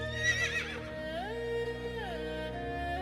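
A horse gives a single drawn-out whinny, rising then falling in pitch, fairly clear and close, with no talking.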